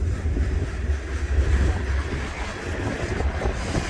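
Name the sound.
wind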